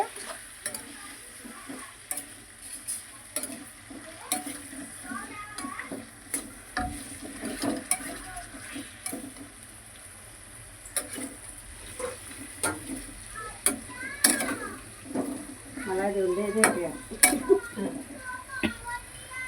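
Raw mango curry stirred with salt in a pan: scattered scraping and clinking strokes over a faint steady sizzle, close by, growing busier toward the end, with a quiet voice faintly present in the background.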